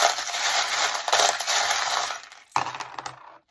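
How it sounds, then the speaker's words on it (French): Small charms cast for a fortune-telling draw, a loud rattling, clinking spill of many little pieces tumbling together for a few seconds, then a second brief shake before falling silent. "On va faire le tirage des breloques et je vais vous dire ce qu'il en ressort."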